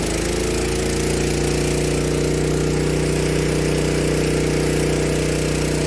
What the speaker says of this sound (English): And I leave it there for about 10 seconds on maximum engine power.